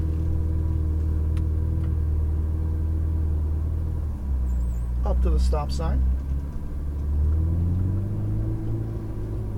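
Ferrari 488 GTB engine rumbling at low speed through Las Vegas streets, a steady deep drone that dips and swells slightly as the car creeps forward, with a voice talking over it midway.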